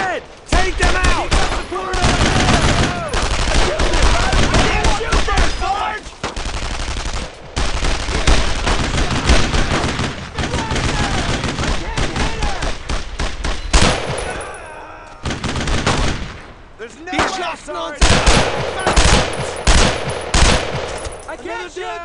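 Heavy sustained gunfire in the World War II video game Brothers in Arms: Road to Hill 30, loud rattling machine-gun bursts and rifle shots in dense volleys with brief pauses, shouted voices mixed in.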